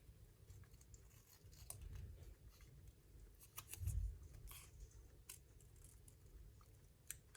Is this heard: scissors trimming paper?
yes